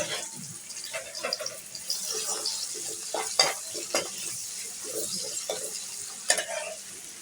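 Onions dropped into a pan for chicken biryani set off a light sizzle under scattered clinks and scraping stirs, with irregular bursts of clatter throughout.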